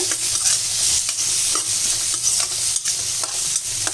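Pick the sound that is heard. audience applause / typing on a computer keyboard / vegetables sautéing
vegetables sautéing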